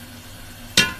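Garlic drops into browned onions in a pot for Karachi beef biryani, and a single sudden loud sizzle bursts out near the end after a quiet stretch.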